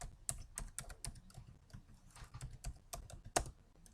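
A search is typed on a computer keyboard, a quick, soft run of close key clicks with an uneven rhythm and no talk.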